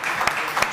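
A small studio audience claps during a live Scotland football build-up show, a brief, close patter of hands with a couple of sharper claps standing out.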